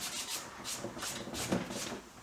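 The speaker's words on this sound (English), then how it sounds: "you could quite easily rub your sketch away by doing this" A hand rubbing over a sketch on a painted ground layer makes soft, dry brushing strokes in an even rhythm, about five passes, faint and close with no voices.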